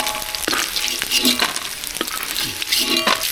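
Lentil dumplings (bori) fry in very hot oil in a wok, sizzling loudly and steadily, with a few sharp clinks of a utensil against the pan at intervals.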